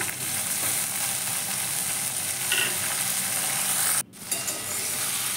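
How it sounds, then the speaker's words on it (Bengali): Chopped onion, beans and potato fry in oil in a pan, giving a loud, steady, close sizzle that briefly cuts out and then resumes, with no talking. "এবার ভালো করে ভেজে নেওয়া হবে তরকারিটা যে পরিমাণ তেল দেওয়া হয়েছে সেটা দিয়ে ভালো করে তরকারিটাকে কষিয়ে নেওয়া হবে"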